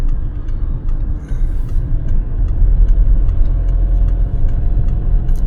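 A car engine runs steadily from inside the vehicle, a continuous low rumble with a vibrating, buzzing quality as the mirror shakes, holding even and fairly loud throughout.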